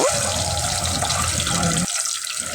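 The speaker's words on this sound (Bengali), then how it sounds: "সেই ডিমটা এখন গরম তেলে দিয়ে দিব" Eggs coated with turmeric and chili hit hot oil in a pan and frying starts: a loud, steady, broadband hiss and crackle that stops sharply near the end, with no talking.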